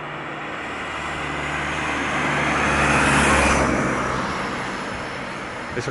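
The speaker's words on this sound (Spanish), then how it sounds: "Eso que ha pasado, un coche, no un avión" A car passes by on a road near Málaga airport. Its broadband road noise swells to a peak at mid-clip and then recedes, with no voices.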